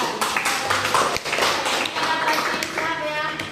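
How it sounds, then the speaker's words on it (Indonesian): Students in a classroom clapping their hands together, a run of quick close claps mixed with voices talking. "Oke, tepuk tangan."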